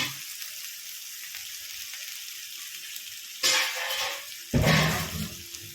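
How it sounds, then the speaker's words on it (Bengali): Chopped pumpkin greens and mixed vegetables drop into a hot pan: a low steady sizzle breaks into two sudden loud bursts of crackling frying as they land, close and without talk. "এই কেটে রাখা সবজি, কুমড়ো শাক আর সাথে যা সবজি আছে সব দিয়ে দিলাম।"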